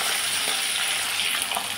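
Fish sizzling in a pan of mustard oil as the pieces are turned, a dense, even hiss with faint scraping, close and steady, no voices.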